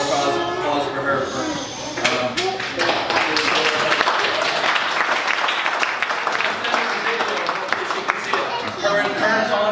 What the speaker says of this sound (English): So one final applause for her.